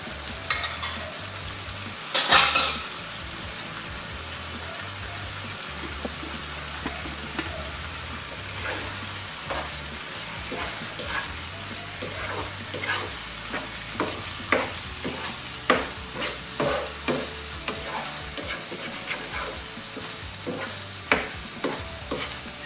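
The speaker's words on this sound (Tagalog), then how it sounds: "This time guys, we are going to add now our beaten eggs." Beaten eggs stirred and frying with bitter gourd (ampalaya) and corned beef in a pan, a steady sizzle under repeated scraping stir strokes that grow more frequent toward the end.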